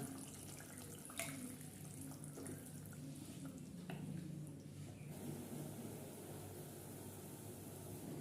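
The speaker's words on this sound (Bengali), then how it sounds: "এবার আমি এখানে মশলার বাটি ধোয়া জলটা দিয়ে দিলাম।" Water from rinsing a spice bowl is poured into a cooked-down masala for a yogurt fish curry, making a faint, steady watery hiss and gentle sizzle that continues without talk.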